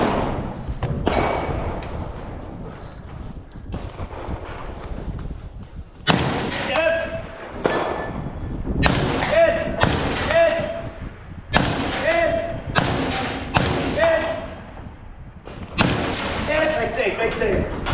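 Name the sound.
gunshots at a shooting team match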